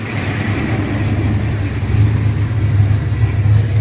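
The rebuilt engine of a 1979 Ford F150 idles with a close, steady low rumble and faint uneven pulsing throughout, no talking over it.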